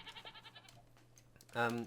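Goats in a zoo pen in the game ZooCrafting bleat: a soft, wavering bleat at the start, then a louder, close bleat near the end, with a voice talking in between.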